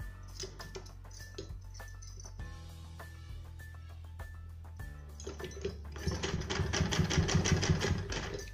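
A sewing machine stitches folded triangular sleeve pieces, its needle ticking in quick regular bursts with short pauses, then running faster and louder in a sustained whir toward the end, close up.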